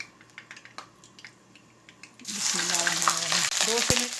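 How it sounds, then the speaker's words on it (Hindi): Ginger, cinnamon and black cardamom go into hot oil: a few quiet clicks, then a sudden loud, close sizzle that roars steadily to the end. "2 से 3 मिनट तक अदरक को भून लेंगे।"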